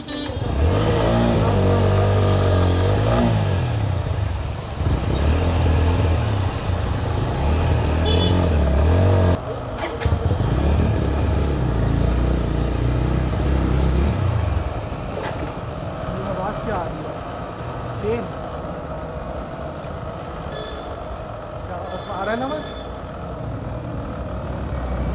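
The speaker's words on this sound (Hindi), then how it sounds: "बाइक में से कुछ आवाज आ रही है।" A TVS Apache RTR 160 Special Edition motorcycle, a new bike with a suspected fault, runs with a steady engine drone and rumble close by for about half the time, then drops to a lower idle, with people talking over it.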